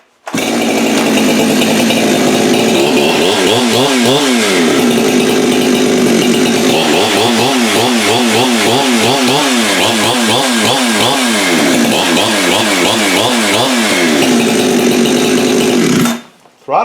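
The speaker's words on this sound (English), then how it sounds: "Throttle response is excellent on that saw too, by the way." Modified clone Husqvarna 572 chainsaw engine revving hard, close and loud, with repeated quick throttle blips rising and falling over a high steady whine before it cuts off at the end.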